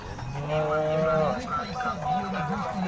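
A cow at a livestock market moos loudly and close by, a long low drawn-out call followed by a wavering lower moan, with farm background noise.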